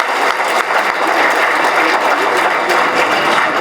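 An audience at a Lions Club installation event claps for a presidential address, loud, steady applause filling the whole stretch with no pause.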